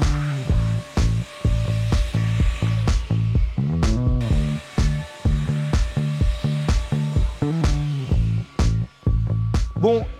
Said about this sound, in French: nous utilisons l'aspirateur sans fil